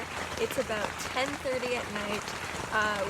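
Heavy rain pours on a campsite in Whistler at night, a dense steady patter close by while a person talks over it.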